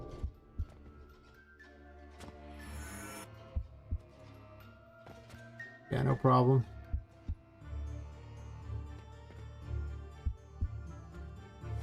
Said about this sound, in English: You can hear the heart beating.